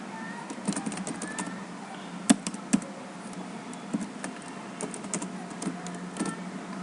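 Steady clatter of keystrokes on a computer keyboard while entering Visual Basic code, with irregular light taps and a couple of sharper key strikes, close and moderately quiet, no talking.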